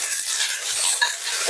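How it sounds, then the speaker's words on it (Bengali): Green chillies hitting hot oil in a wok, giving a loud, dense sizzle and crackle heard close up throughout a brief moment with no talking. "এবার আমি কড়াইতে তেলের উপর দিয়ে দেবো কাঁচা লঙ্কা"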